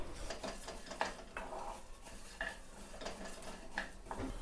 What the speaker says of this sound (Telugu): నూనె కొంచెం వేడైన తర్వాత టెన్ గ్రామ్స్ శనగపప్పు టెన్ గ్రామ్స్ మినపప్పు ఫైవ్ గ్రామ్స్ జీలకర్ర వీటన్నిటిని కొద్దిసేపు వేయించుకోవాలి